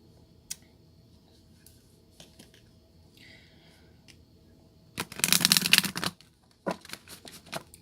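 Oracle cards are shuffled, with a brief loud riffle burst near the middle surrounded by scattered soft clicks and card snaps, close and quiet, no talking.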